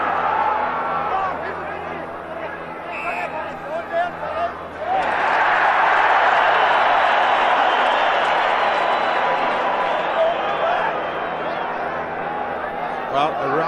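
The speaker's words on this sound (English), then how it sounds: "a rousing round of applause from the South African crowd, with that decision going South Africa's way" A South African rugby crowd at a 1997 test match in Pretoria breaks into a rousing round of applause that swells up and holds steady, with a commentator talking over it.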